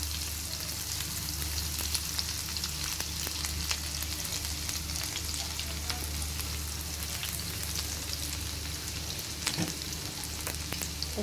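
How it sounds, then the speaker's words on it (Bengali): Chopped garlic and green chilies stir-frying with okra in hot oil, a steady close sizzle throughout with light scraping of stirring. "রসুন কুচি আর কয়েক টুকরো কাঁচামরিচ দিয়ে আমি একটু ভালো করে নেড়ে চেড়ে নেব।"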